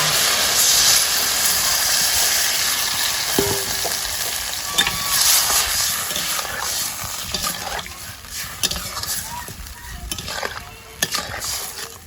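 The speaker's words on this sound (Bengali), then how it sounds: "আমি সবজিটা কষাইতে থাকি" Vegetables being sautéed and stirred in a pan over a village cooking fire, with a steady loud frying hiss and sizzle and occasional spoon scrapes, close up, with some voices in the background.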